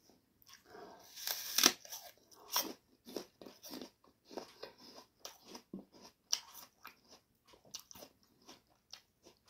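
Close, crisp bites into a Fuji apple, followed by a steady run of crunchy chewing with brief pauses between mouthfuls, heard alone without talk.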